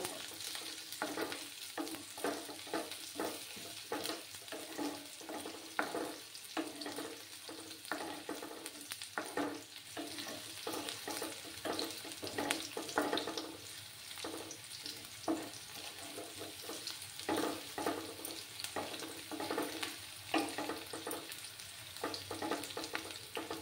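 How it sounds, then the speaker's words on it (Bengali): Chopped onions fry in a pan for a winter vegetable-and-egg dish, a steady close sizzle with repeated stirring scrapes throughout, no voices. "পেঁয়াজগুলোকে একটু লাল করে ভেজে নেব।"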